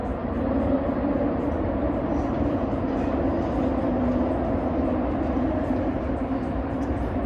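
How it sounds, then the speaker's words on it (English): Traffic on a bridge in Lisbon makes a continuous, dense low rumble and roar that stays steady and fairly loud, with no pauses or voices. "It's so noisy, this bridge."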